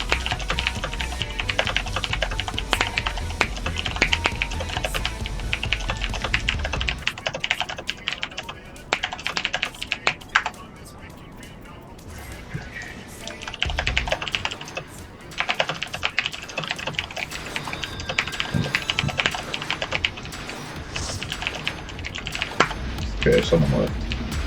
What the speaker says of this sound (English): I'm just gonna type out a few pointers for this guy.